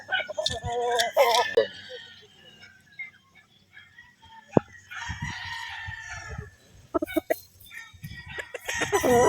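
Gamefarm stag roosters crow and cluck nearby in bursts, with sharp calls and lower clucks scattered among pauses and some brief handling noises.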